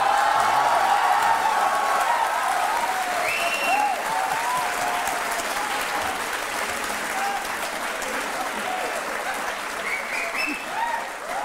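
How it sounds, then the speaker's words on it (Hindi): A studio audience on the Aap Ki Adalat talk show with Manoj Bajpayee applauds continuously, broad sustained clapping with a few faint voices and tones mixed in over the whole stretch. "मनोज ये तालियां साबित करती हैं"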